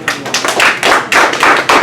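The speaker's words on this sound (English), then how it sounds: "So we want to give him a round of applause," Audience clapping at a community unity event in Maryland, heard as a loud, close run of distinct claps in a steady rhythm, about six or seven bursts over a couple of seconds, with no talk.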